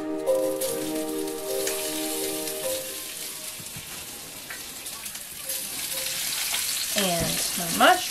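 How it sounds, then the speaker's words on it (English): Onions fry in hot oil in a tiny RV kitchen for a smoky garlic chicken stir-fry, a steady dense sizzle that carries throughout. A voice speaks over it briefly at the start and again near the end. "And then I'm gonna put in my onions and start with the onions."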